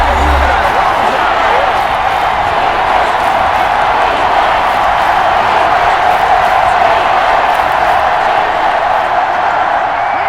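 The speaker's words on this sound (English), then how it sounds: "The crowd getting into it as we come up on a big third down." Broad, steady stadium crowd roar in the Madden NFL 21 football video game, swelling before a big third down between the all-time Raiders and Eagles, loud and continuous throughout.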